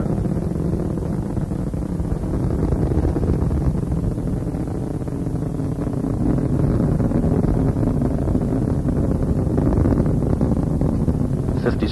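Space Shuttle Discovery's three liquid-fuel main engines roar during launch, a loud, continuous low rumble with buffeting, wind-like noise that holds steady throughout.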